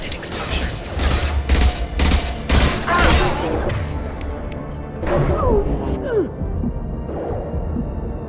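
Several heavy, rhythmic gunshot bursts from combat in Mass Effect 2, loud and close over a dense battle din, then tapering into mechanical clanks and scattered lighter impacts.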